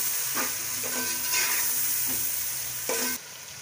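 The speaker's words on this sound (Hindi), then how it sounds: "जो हमने ये मसाले तैयार किए थे सारे ये डाल देने इसमें और इसको अच्छी तरह से हमने भून लेना है" Mutton frying with prepared spices for Pakistani yakhni pulao gives a continuous close sizzle, with several scraping stirs of the spoon through the pan, before a sudden drop in level at the end.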